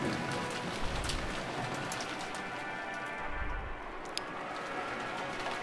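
Rain from the visual novel game Umineko: a continuous, even hiss of rainfall on surfaces with scattered droplet patter, with a few brief sharper ticks.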